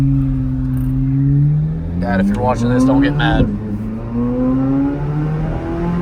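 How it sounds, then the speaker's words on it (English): A Chevrolet Corvette C8 Z06 with its factory exhaust rises and falls through several loud revs, the engine note climbing and dropping under a voice. "I'm gonna let you guys hear the car"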